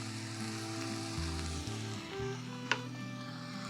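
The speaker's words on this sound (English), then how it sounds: "we're going to go ahead and add those minced onions in there" Minced onions fry in a pan with a steady bright sizzle, heard close and alone, with a faint clink partway through.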